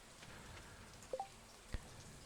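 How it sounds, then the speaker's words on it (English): Green rain falls in the Stardew Valley game as a steady soft patter of raindrops, with a few faint droplet plinks and a brief thud standing out over the quiet wash. "The green rain really does accelerate things."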